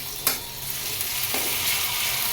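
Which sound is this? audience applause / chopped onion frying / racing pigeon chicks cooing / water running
chopped onion frying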